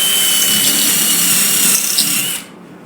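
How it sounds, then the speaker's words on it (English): A power drill whines steadily at high speed as it bores a hole into wooden handrail stock for a zip bolt, loud and close, then cuts off abruptly near the end. "And I'm going to drill."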